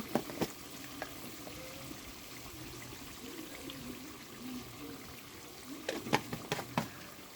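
Spiced gravy in a pan being stirred, a faint steady sizzle and simmer throughout with a few soft scraping clicks of the spoon near the start and a cluster of sharper knocks toward the end.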